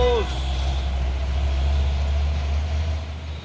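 A CPO palm-oil tanker truck labored on an uphill road, its deep steady engine drone dominating, with a brief air-brake-like hiss at the start and continuous low rumble throughout.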